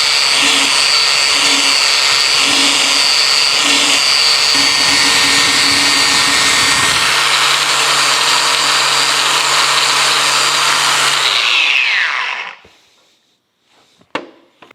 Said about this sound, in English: let's get the wire wheel out and do a little cleaning on these